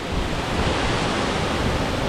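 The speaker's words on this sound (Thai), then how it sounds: "คือน้ำตกคู่เลค่ะ" A waterfall at Doi Tulee pours in a steady, dense, full-band roar with no breaks, close and loud, with no voices over it.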